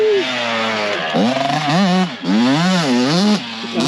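A 2007 Honda CRF450R dirt bike fitted with a 1985 CR500 two-stroke engine revs loudly and close, its pitch rising and falling through several throttle blips in quick succession.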